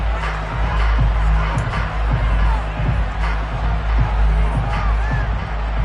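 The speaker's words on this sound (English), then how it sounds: "Plenty of shouts from this crowd as they watch the replay." Football stadium crowd at a Buccaneers at Saints game shouting while a replay plays, a dense, continuous roar of many voices with scattered louder calls, steady and loud throughout.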